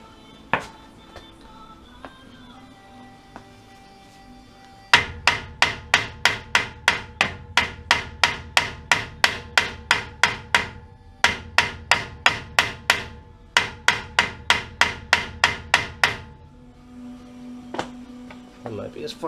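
A hammer beats on a rear axle bearing during a bearing and seal replacement, delivering three quick runs of sharp, loud metallic strikes whose ringing pitch shifts as the bearing moves, with brief pauses between runs.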